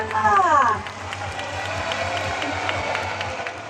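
A crowd at the opening of a parade event at CentralWorld claps and cheers, a moderate, steady wash of applause that follows a brief spoken announcement.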